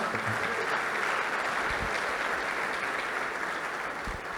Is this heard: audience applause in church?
yes